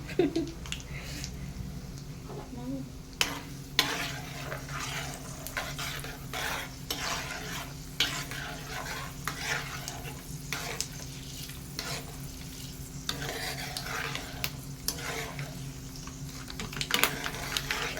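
Steady sizzling of mustard-seed tempering and dried chillies in hot oil for gongura pickle throughout, punctuated by scattered clicks and scrapes of stirring in the pan.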